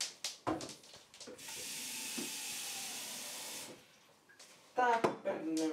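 Tap water runs steadily into a kitchen sink for a few seconds with a broad hissing rush, then cuts off, as people talk and handle things nearby before and after.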